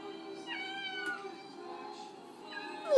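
Fluffy white cat meowing for raw food, two clear meows spaced about two seconds apart, near and moderately loud against a quiet indoor background.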